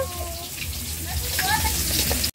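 A frying pan sizzles steadily during home cooking of meat with potatoes, stirred now and then with a spatula; the hiss stays continuous and close, with faint scraping and background voices.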